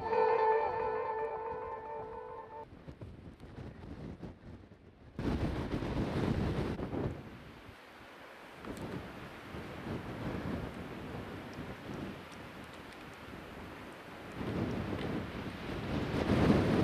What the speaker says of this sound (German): Allerdings stürmt es recht heftig.